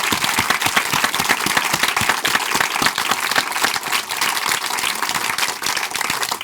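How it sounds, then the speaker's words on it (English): A live podcast audience applauding, dense, continuous clapping that stays loud and even throughout. "we should indeed give George a proper round of applause"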